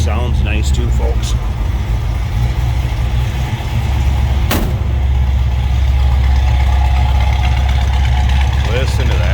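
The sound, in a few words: 1968 Ford Mustang GT 302 engine idling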